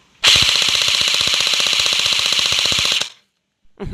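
An electric M4A1 gel blaster toy rifle fires one sustained full-auto burst of about three seconds, a rapid, even rattle of shots that is loud and close, then stops abruptly.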